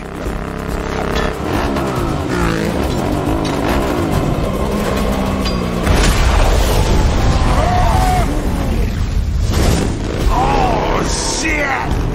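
Movie car chase action with a grenade explosion, a loud booming blast amid roaring engines and chaotic crashing, continuous and intense throughout, with shouting voices mixed in.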